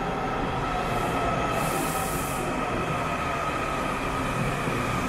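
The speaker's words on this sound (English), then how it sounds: "here comes the train" A Washington, D.C. metro train rumbles steadily past in a station near Capitol Hill with a dense roar and faint high-pitched wheel squeal, continuous and fairly loud throughout.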